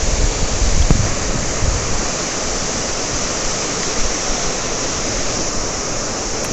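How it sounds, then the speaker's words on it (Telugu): Water rushes forcefully through Somasilla Dam in a loud, continuous roar like a waterfall, dense and unbroken for the whole stretch, with no voices over it. "అబ్బా అది చూడండి, రావడం వాటర్ రావడం ఎంత ఫోర్స్గా ఉంది."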